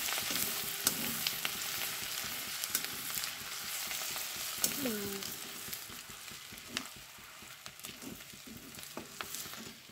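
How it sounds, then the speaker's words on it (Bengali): Grated ginger and garlic fry in a pan for pav bhaji, with a continuous crackling sizzle and occasional scraping stirs close by, heard alone without talk. "তারপরে রসুন, এটাকে ভালো করে ভেজে নেব যাতে কাঁচা গন্ধটা চলে যায়।"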